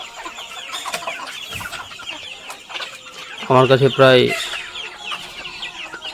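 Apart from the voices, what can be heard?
chickens clucking while eating feed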